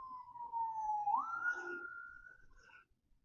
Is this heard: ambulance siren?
yes